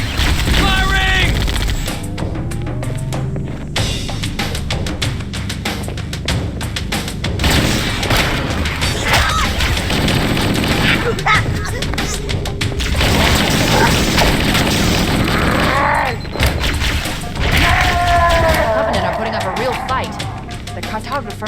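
Weapons fire and heavy explosions in the Halo shooter video game thump and crash continuously, with booms and clattering mechanisms layered under frequent in-game voices.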